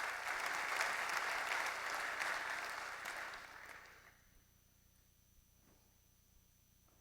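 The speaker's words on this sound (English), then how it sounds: "You guys should give yourselves a round of applause." Keynote audience at OpenStack Summit Paris 2014 breaks into sustained applause that holds strongly for several seconds, then fades away to near silence.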